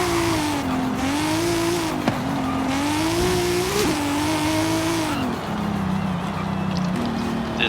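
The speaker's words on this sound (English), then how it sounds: "Let's listen to this engine." A Toyota Trueno with a 1,300 hp drag tune in Forza Horizon 5, its engine droning loud and steady with rising and falling revs, a brief sharp blip partway through and a lower settled tone near the end.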